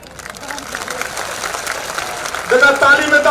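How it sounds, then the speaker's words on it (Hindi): A crowd claps at an outdoor political rally in Mainpuri, the applause building steadily and growing louder near the end beneath an amplified voice speaking over a PA. "जोरदार ताली बजा के स्वागत करिए।"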